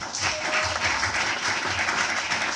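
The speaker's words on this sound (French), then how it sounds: "Acclamez très fort pour le Seigneur." A church congregation claps loudly and steadily for the Lord, a dense, continuous wash of applause filling the whole room without pause.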